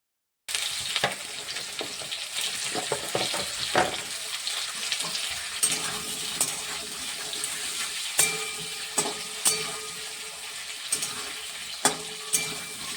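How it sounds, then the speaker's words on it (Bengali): Potatoes and cumin seeds frying in hot oil for a mustard-oil jhal fish curry, a steady broadband sizzle with occasional sharper crackles and spoon scrapes every second or so, close and continuous without talk. "ওপর জিরেটা দিয়ে আলুগুলো দিয়ে দিলাম আলুগুলো"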